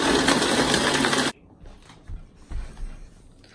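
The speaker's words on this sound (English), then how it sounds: "I put it on grind and I'm mixing up the smoothie" A blender set to grind whirs loudly while mixing a strawberry banana smoothie, running for about a second and a half before cutting off abruptly and leaving a quiet room with faint soft knocks.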